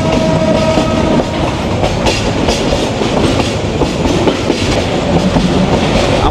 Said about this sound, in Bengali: পাহাড়িকা এক্সপ্রেস যে সিলেট থেকে ছাড়ছে